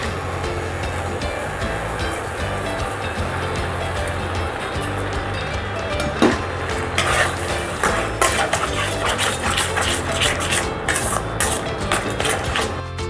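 Sugar cooking in a pan on a low flame for apple bread halwa, stirred with steady scraping and rustling that turns busier and more clattery toward the end, with no talk.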